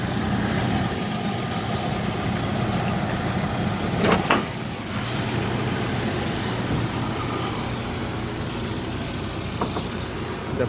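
A 1997 Jeep Wrangler engine idles steadily after a cold start, a continuous close rumble with a couple of brief clicks or knocks partway through and no talk.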